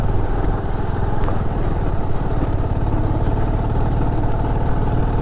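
Motorcycle engine labouring up a steep, rough and bumpy mountain road in Arunachal Pradesh, a steady loud close drone with slight clatter throughout and no talk.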